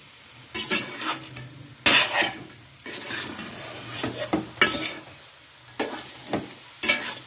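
Wheat-flour halwa being stirred in a pan with crushed pistachios, cashews and almonds, giving repeated scraping and clinking strokes over a soft sizzle, close and fairly loud.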